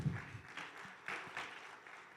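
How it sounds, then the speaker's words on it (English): Audience applause after a presentation at a digital technology forum, a short burst of clapping at moderate distance with some voices faintly mixed in. "Once again, a round of applause."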